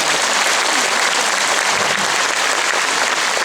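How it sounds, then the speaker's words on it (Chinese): A concert audience claps warmly for the singers on stage, a dense, loud and continuous wash of applause from a large crowd with no break. "一定要给我们台上的每位歌手热情的掌声"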